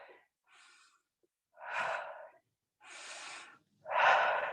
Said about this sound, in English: Bridging up and down. And exhale.